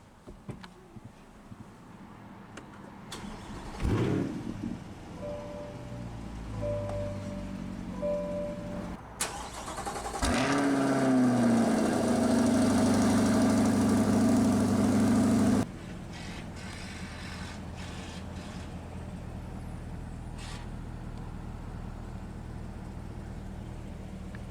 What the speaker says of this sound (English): we'll now listen to that engine roar to life.